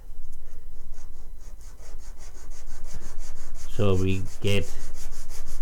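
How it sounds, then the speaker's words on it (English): A handmade jewelry piece is sanded with steady, rhythmic rubbing strokes close by, continuing while a person briefly speaks partway through. "now we will sand it a little"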